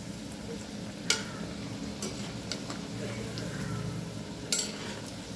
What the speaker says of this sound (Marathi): कढईमध्ये भजी तळण्यासाठी तेल तापत ठेवले.